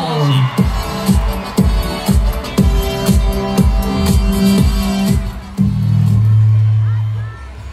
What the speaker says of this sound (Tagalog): Sabay-sabay tayong magpalakpakan